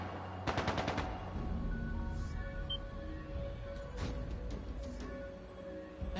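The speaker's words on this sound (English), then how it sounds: "That sounded like gunfire." A quick burst of rapid gunfire in the video game Legend of Heroes: Trails of Cold Steel II, then scattered distant shots over a low background hum, with no talking.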